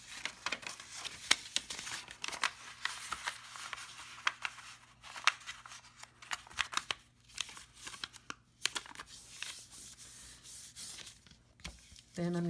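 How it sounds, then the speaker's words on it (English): Paper being folded and creased by hand, with soft intermittent rustling, rubbing and crinkling strokes at close range, fairly quiet and irregular throughout. "I'm going to start by folding in about 1/3."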